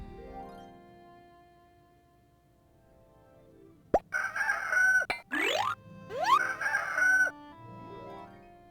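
A cartoonish hen in the video game Goblins Quest 3 gives a short run of squawking, crowing-like clucks with springy boing-like pitch slides, loud and close after a quiet lead-in.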